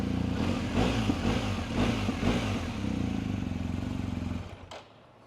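A 2019 BMW GS 1250 HP motorcycle idles close by with a steady, lumpy mid-pitched engine rumble and faint mechanical clatter, running evenly for several seconds before being switched off and falling quiet.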